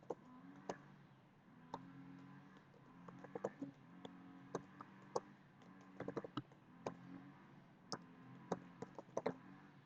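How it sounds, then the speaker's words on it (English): Quick keystrokes and clicks on a computer keyboard while typing out an Excel formula, close and fairly quiet, in uneven bursts over a low hum. "I'm just going to type it out quickly."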